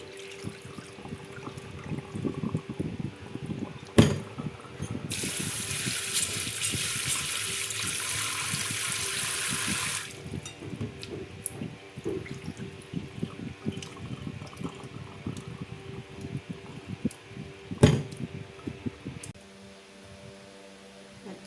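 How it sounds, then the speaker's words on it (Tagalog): Tap water runs into a sink as mung beans are rinsed for a Filipino sautéed mung bean dish, a steady stream with a louder gush in the middle and a few clunks of handling. "kailangan po ulit nating hugasan ang munggo para matanggal po yung mga natitirang dumi-dumi"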